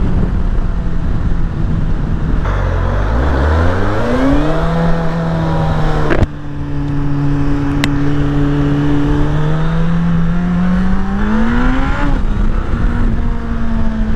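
A Suzuki GSF 1200 S Bandit motorcycle engine pulls hard on the road, revving up through the gears with rising whines and brief shifts, loud and close over steady wind rush.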